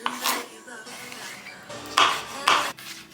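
Knife dicing cucumbers on a board, a few sharp close chops and clacks spaced irregularly, with a couple of louder knocks near the end.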